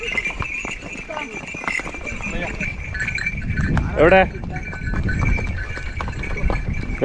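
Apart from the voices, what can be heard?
horse hooves walking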